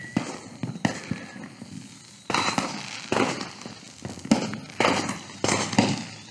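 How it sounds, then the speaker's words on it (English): Firecrackers burst outdoors on a street in a series of sharp, irregular bangs, some near and loud, others fainter, with crackling and background noise between the blasts. "firecracker did it"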